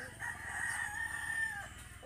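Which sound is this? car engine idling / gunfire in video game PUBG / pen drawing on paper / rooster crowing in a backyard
rooster crowing in a backyard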